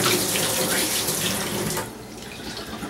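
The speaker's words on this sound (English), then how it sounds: "Let me wash my hands." Running tap water pours steadily into a sink as someone washes their hands in a home kitchen, a close, continuous splashing flow that cuts off near the end, leaving a quieter room.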